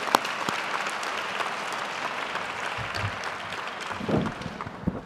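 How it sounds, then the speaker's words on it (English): An audience at a maternal and infant health summit applauds a panel, a steady, dense patter of clapping throughout at moderate level, with a few louder claps and faint murmurs near the end. "Let's give that last panel a round of applause,"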